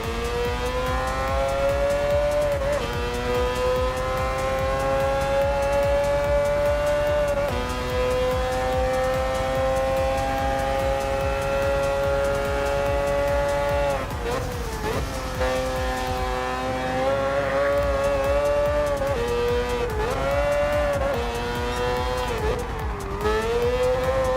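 GT4 race cars in Gran Turismo Sport, a loud continuous high-revving engine drone that climbs through gears with brief drops at shifts and braking, plus occasional tire squeal, for the whole stretch.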